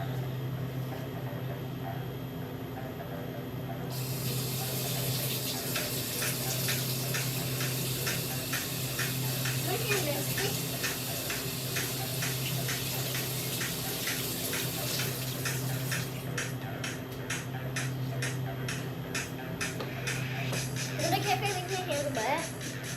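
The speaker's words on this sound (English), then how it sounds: "go wash your hands, Lana." Tap water runs steadily in a kitchen while hands are washed, with a continuous close splashing stream beneath a child's and an adult's voices talking.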